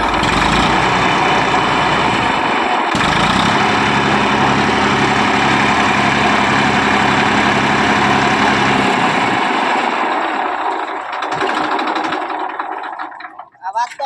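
A tractor engine idles loudly and steadily with a rhythmic diesel chug, close by, as voices talk over it; the engine dies down near the end.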